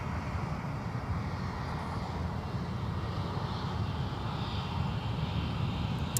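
A SkyWest airliner takes off from runway 17 at Minneapolis–Saint Paul airport, its engines a steady broad roar at middle distance that holds for several seconds with no talk.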